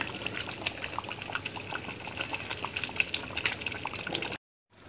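A 2 kg pot of chicken biryani simmers on low heat, with a steady close bubbling and soft popping that runs evenly before cutting off abruptly.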